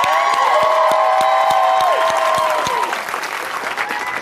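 A studio audience bursts into sustained applause and cheering for a comedian's entrance at a talk show, loud, dense clapping filling the room, with a few shouts and a voice briefly heard in the mix.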